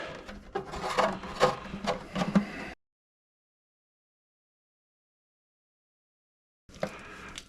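An RC car's lexan body rubbed on the inside by hand, a close, soft, uneven scrubbing and rasping for a few seconds, then a long silent gap before the rubbing briefly starts again.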